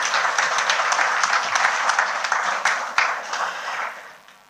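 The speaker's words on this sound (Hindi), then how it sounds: "ताली।" A hall audience at an award ceremony breaks into applause, a full crowd of clapping hands with a few sharper individual claps standing out, steady for several seconds before tapering off.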